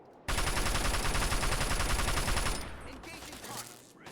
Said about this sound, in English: Dude, who's firing at me? So damn hard to hit. The turrets in the bunkers.